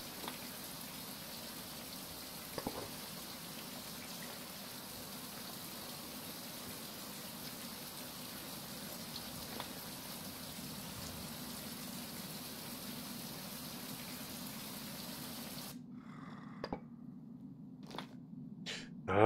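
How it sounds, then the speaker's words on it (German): In the survival game Survival: Fountain of Youth, a steady rain hiss plays quietly and evenly for most of the stretch, then cuts out abruptly near the end, leaving a few scattered clicks. "Es regnet wieder."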